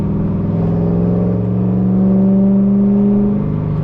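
A car with a newly converted coilover suspension accelerates onto a highway, its engine note rising steadily and droning close and loud throughout with no talk.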